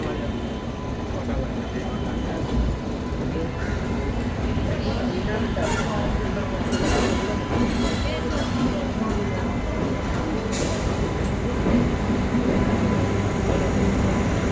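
A Bandel–Howrah local train pulls into Howrah station, a loud steady rumble of rolling carriages with brief high metallic screeches midway, while voices carry on over the din.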